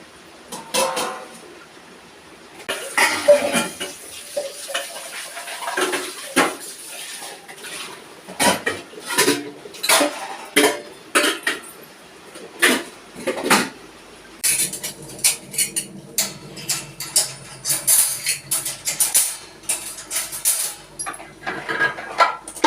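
Metal pots and vessels clank and clatter repeatedly in a sink, with scrubbing and running water between the sharp knocks, close and busy throughout.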